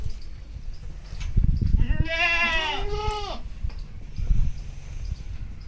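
A single goat bleats loudly and nearby, a wavering cry lasting over a second, amid rustling and footsteps outdoors.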